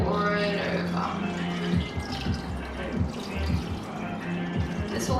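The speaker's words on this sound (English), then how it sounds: "we're going to add 2 cups of just normal water. Two cups. Just pour it over." Two cups of plain water poured over seafood in a pot, a continuous close splashing and trickling pour with some bubbling patter throughout.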